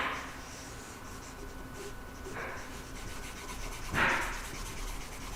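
An eraser or cloth rubbing writing off a board during a math lesson, soft scrubbing strokes in a few short passes, the last one louder and nearer, in a quiet room.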